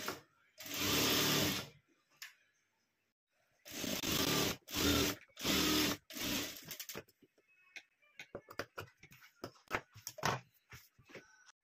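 A sewing machine stitches a boat-neck blouse back design in short bursts, running steadily for a few seconds at a time with pauses between, followed by quicker, lighter ticking as the fabric is handled.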